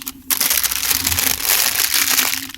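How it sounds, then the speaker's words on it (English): Paper wrapper around a breakfast wrap crinkles and crunches loudly up close, a dense, continuous rustle after a brief quiet start, with no talking. "Because I'm eating a wake-up wrap. And they wrapped it with paper."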